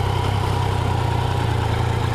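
A Yamaha XSR900 motorcycle engine (2016) easing off in first gear, a steady, loud, low throbbing rumble held close and even throughout with no voices.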